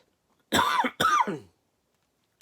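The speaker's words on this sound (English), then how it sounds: "I don't know why I'm coughing." Two sharp, harsh coughs in quick succession, close and loud, followed by silence.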